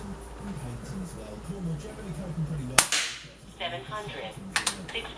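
One sharp, close crack from a BSA Goldstar SE air rifle cuts through the middle, with someone talking before it and a few lighter clicks and knocks after.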